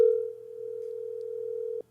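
A telephone tone sounds loud and close as one steady, unbroken electronic note for almost two seconds, then cuts off abruptly.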